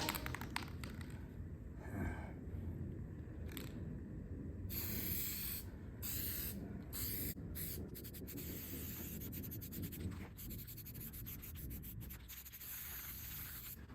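Spray paint hisses in short, close bursts inside a makeshift paint booth during a first coat, with soft rubbing and tapping sounds between passes.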